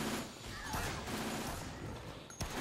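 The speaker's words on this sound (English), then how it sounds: "If they have guns, then you'll have yourself a little firing squad." Survivors firing guns at zombies in Dead Rising, a dense, continuous fusillade of overlapping shots at steady volume, with one sharper crack near the end.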